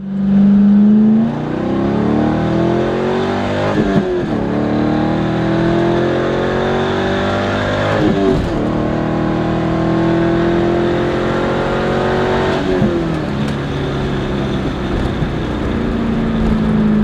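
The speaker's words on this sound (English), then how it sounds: "we'll go out and take it for a spin" A Corvette with Z06 shocks, driven on the road, its engine droning loudly and steadily and rising and falling through gear changes for the whole stretch, with no talking.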